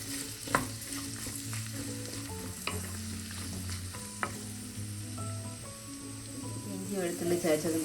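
Chicken liver with green chillies and onion is stirred in a hot pan, a continuous sizzle with occasional spoon scrapes and clicks, close-up, beneath soft tonal background music.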